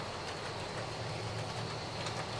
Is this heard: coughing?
no